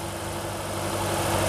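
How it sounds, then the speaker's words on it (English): A car engine idles steadily during a battery charging test, a constant low rumble and hum with slight vibration that grows a little louder toward the end, with no talk over it. "Start engine, press enter."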